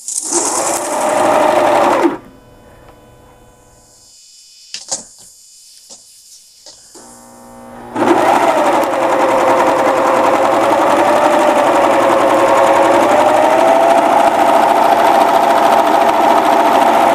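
A serger sewing machine stitches the shoulder seams of a t-shirt in loud, close, steady whirring runs, a short burst, a pause with light clicks, then a long continuous run.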